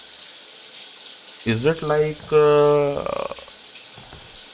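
Water runs steadily like a shower in a horror short, a faint constant hiss underneath a person who briefly speaks in the middle.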